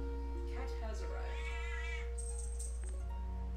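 A cat meows several times in a row, the drawn-out, rising calls fairly close and clear, with a steady electronic hum running underneath throughout.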